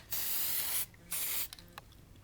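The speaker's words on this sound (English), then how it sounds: "I'm going to show you how I spray these letters." Spray bursts coating wooden sign letters with ink, two long steady hissing blasts followed by a few short spurts, close and loud with no talking.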